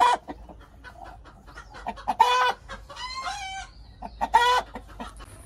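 Brahma chickens clucking in a pen on a farm, with a rooster crowing clearly several times among the close, repeated clucks and no talking.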